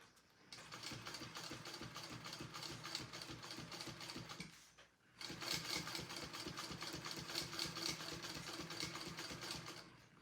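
A sewing machine stitches fabric in two fast, rhythmic runs of rapid mechanical clatter with a brief pause between them, close and steady.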